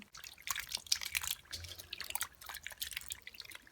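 Half a kilogram of foraged wild mushrooms being put to soak in water, with soft close splashing, dripping and trickling in irregular bursts at low volume and no talk.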